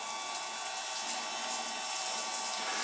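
Steady hiss of water streaming from a battery-powered portable shower, continuous and fairly close, with no voices over it.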